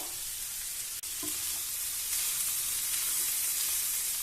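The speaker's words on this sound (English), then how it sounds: "Toss it well to mix everything up." Vegetables with salt, pepper and Ajinomoto are tossed in a hot pan, giving a steady close sizzle with a brief knock of utensil on pan near the start.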